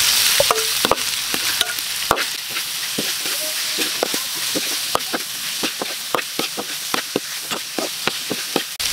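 Pork frying in a pan for bopis, with steady sizzling and repeated clinks and scrapes of a utensil stirring the meat, close and continuous with no talk.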